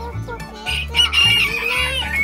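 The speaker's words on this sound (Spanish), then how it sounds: "Ah, ¿las gallinas?" Hens and small chicks clucking and cheeping close by in a short burst of repeated calls, with little else around them.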